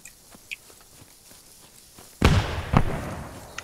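A grenade going off in the Post Scriptum war game, one sharp explosive burst after a stretch of quiet faint thuds, followed by a second bang and a rumbling tail, loud and fairly close.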